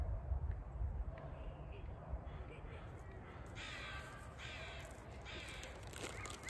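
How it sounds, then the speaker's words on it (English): Crows caw repeatedly at a distance, harsh calls coming in a loose series over steady outdoor background noise. "You hear the crows."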